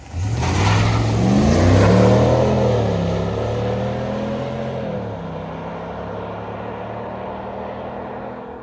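A Ram pickup with an upgraded throttle body roars through one strong engine rev during a power run, climbing loud and close before the note falls away to a steady idle.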